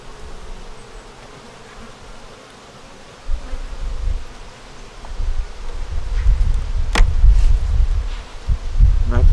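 Honeybees hum around an open hive outdoors, a low droning buzz that swells and thickens as the clip goes on, with rustling and wind-like noise close by.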